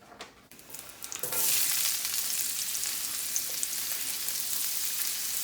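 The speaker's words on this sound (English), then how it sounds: "I'm going to saute some onion and garlic." Onion and garlic hit hot oil in a pan and burst into a loud, steady sizzle that holds at full strength after a quiet start with a few soft clicks, close and without talk.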